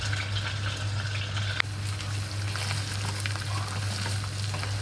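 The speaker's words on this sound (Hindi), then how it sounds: "अब हम लहसुन अदरक का पेस्ट दो बड़े चम्मच इसके अंदर डाल देंगे।" Garlic ginger paste frying in a pot for Bong Nihari, a dense continuous sizzle over a low steady hum, with one sharp clink early on and light stirring crackles, close and without voices.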